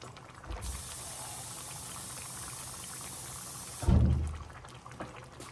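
Water poured into a cooking pot of greens and pot liquor on the stove, a steady bright rushing stream for several seconds ending with a low splash, close by.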